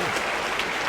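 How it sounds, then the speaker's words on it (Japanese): Dense, steady applause fills a packed sumo arena at the Nagoya tournament, a continuous wash of clapping from a large crowd. "館内はこの拍手です。"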